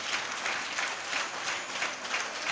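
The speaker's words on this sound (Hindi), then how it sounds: "जो ताली बज रही ना" An audience claps continuously in rapid, dense, rhythmic applause that swells and dips slightly, filling the room at a Hindi spiritual gathering without any voices over it.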